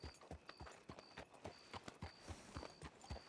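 Lugo, a horse in a video game, trots with a quick, steady clip-clop of hooves, evenly paced beats with a faint recurring tone beneath.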